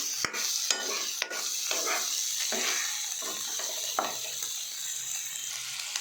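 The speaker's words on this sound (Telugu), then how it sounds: "ప్రతి ముక్క ఇలా చక్కగా వేగుతుంది." Chicken pieces frying in a pan for a chicken fry, giving a steady close hiss of sizzling oil broken by several sharp scraping knocks of stirring.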